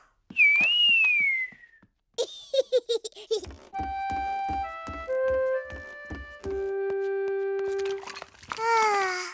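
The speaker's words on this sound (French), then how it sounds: "George sait aussi siffler." A cartoon character whistles a clear, bright melody of sustained steady notes in the middle of the clip, with short cartoon voices and squeaky babble before and after it.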